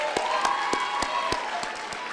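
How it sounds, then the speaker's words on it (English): An audience at a comedy show breaks into applause, with individual claps standing out in an uneven rhythm over a steady wash of crowd clapping, fairly close and alone. "Let's give him a round of applause, too."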